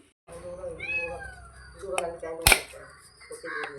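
A cat meows at close range while fish is being cut nearby, giving a rising and falling cry, followed by sharp kitchen knocks and clatter and a second, softer meow at the end.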